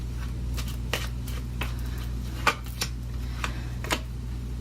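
Tarot cards shuffled and drawn: soft, irregular flicks and slaps of card stock sound close and faint over a low steady hum, with no talk.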